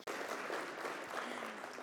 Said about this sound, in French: Est-ce que vous pouvez, s'il vous plaît, l'applaudir?